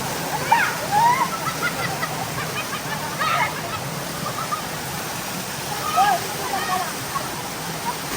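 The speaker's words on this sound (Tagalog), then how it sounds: "Napakagandang place. Dito naman yun sa Antong Falls." The steady rush of the Antong Falls waterfall fills the background, while voices and a few brief vocal sounds come in over it.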